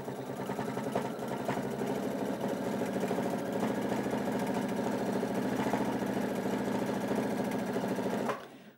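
Sewing machine stitching fast and continuously during free-motion quilting, the pedal pressed hard, running at a steady high speed close up before stopping abruptly near the end.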